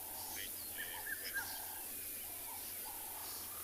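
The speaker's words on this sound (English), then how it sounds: "there are squirrels and birds shouting all over the place" Scattered bird calls ring out in the South African bush on a calm morning, faint and distant, a few brief chirps and whistles over a low steady background hush.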